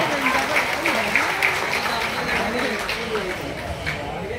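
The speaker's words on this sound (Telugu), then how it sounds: "తమ యొక్క చప్పట్లతో ఆర్టీఎస్ వారితో పలకాలని కోరుతున్నాం" Audience applause in a theatre hall in Visakhapatnam for newly elected association officials at a community gathering, steady dense clapping throughout with voices and crowd noise mixed underneath.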